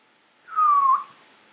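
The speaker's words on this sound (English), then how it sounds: "I blew my whistle." A single blown whistle in a Minecraft survival game gives a clear, clean tone lasting about half a second, sliding slightly downward, alone against near silence.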